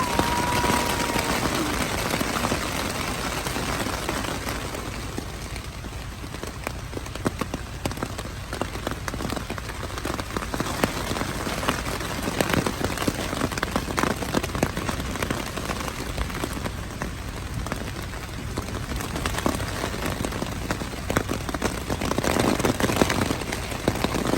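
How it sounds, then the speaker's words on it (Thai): Steady rain falling on an open field at a cassava-planting site, a dense continuous hiss with scattered patters throughout, moderately loud with no voices. "ฝนตกแล้ว"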